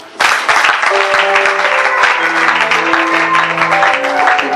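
Applause from a large audience at a gathering: dense, steady clapping that holds loud and close through the whole stretch, with sustained tones underneath.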